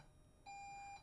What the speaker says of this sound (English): I apologize for that beeping